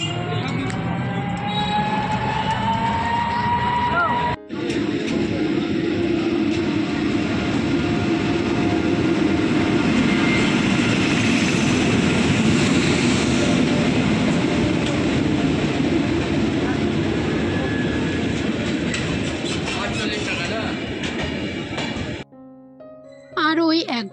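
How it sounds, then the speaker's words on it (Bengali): A passenger train pulls into a railway station at night on a route from Raiganj, a loud sustained rumble and rolling clatter of wagons filling nearly the whole stretch, with a brief break early on and the noise cutting off near the end. "আর ওই 1 ঘন্টার মতো বসে থাকার পরে আমাদের ট্রেনটা শেষ পর্যন্ত চলে এলো"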